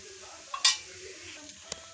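A pumpkin dosa sizzles softly in oil on a pan over medium heat, with a brief clatter of a utensil and faint sizzling around it, no talking.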